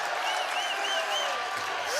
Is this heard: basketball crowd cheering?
yes